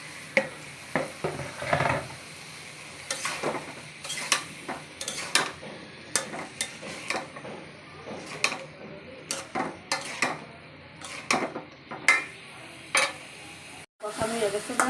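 Chunks of bottle gourd fry in oil with spices in a pan, a steady sizzle punctuated by repeated scraping stirs and clinks of a utensil against the cookware.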